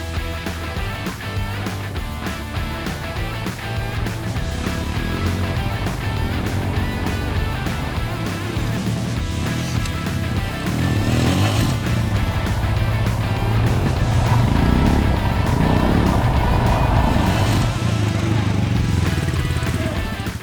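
A Royal Enfield Himalayan motorcycle rides along with a steady engine drone and road noise, loud and continuous, mixed with background music.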